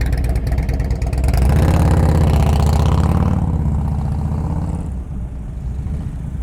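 Motorcycle engine idling and chugging at low speed in slow-speed riding practice, a steady mid-low throb that swells briefly then settles into a softer idle, close and continuous with no talk.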